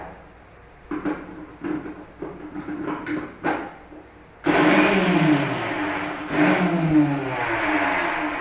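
A mixer grinder grinding small onions, starting with a few short pulses and then a loud sustained whirring grind with a surge near the end.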